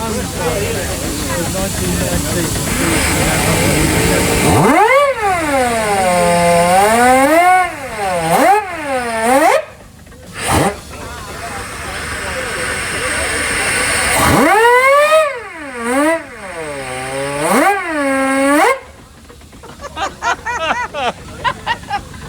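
A steam traction engine at a rally field sounds its whistle in long rising-and-falling calls, close and loud, over the engine's hissing, with people talking nearby between blasts.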